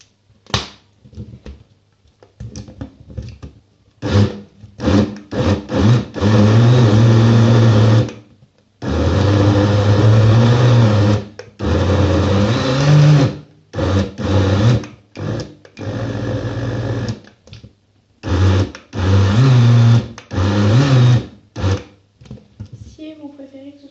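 A blender purees fruit with fruit juice for a smoothie, running in a series of loud motor bursts of varying length separated by short pauses, a whining hum that rises and shifts in pitch.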